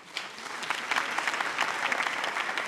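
A comedy-show crowd at Le Parlement Du Rire breaks into dense, sustained applause, many hands clapping together at a moderate distance, with no talking over it.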